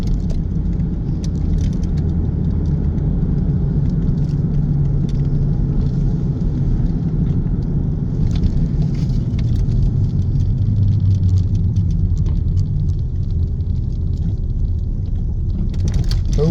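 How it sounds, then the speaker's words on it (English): A Harley-type motorcycle rumbles loudly nearby on the road, heard from inside a car as a continuous deep engine drone that holds steady for the whole stretch, with no talking. "we've got a Harley or something up here, making a lot of noise"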